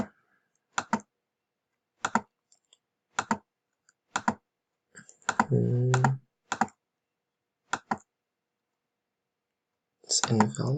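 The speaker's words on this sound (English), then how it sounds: "so I'm going to go and type in some information." Computer keyboard typing while entering form information, heard as sparse short clusters of clicks separated by silence, with brief talk in between.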